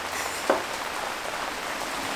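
Steady, even wash of rain falling during a serious downpour in Japan, constant and moderately close with one brief knock partway through and no voices.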